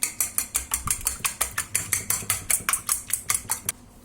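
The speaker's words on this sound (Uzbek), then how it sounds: "Ana endi buni vinchik yordamida aralashtirib olamiz." Three eggs beaten with a metal whisk in a bowl, a fast run of sharp, regular clinking strokes, about four or five per second, close and loud, stopping just before the end.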